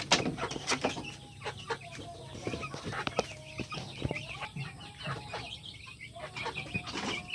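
Backyard chickens cluck and squawk in scattered bursts while feeding, with several birds calling close by over a low steady background hum.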